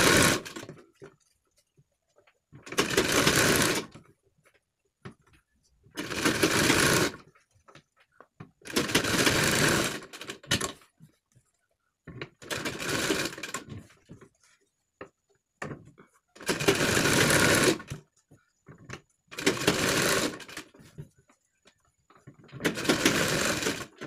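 A sewing machine runs in about eight loud, even bursts of stitching with brief pauses between, sewing a temporary basting stitch along a collar neck, alone and close by.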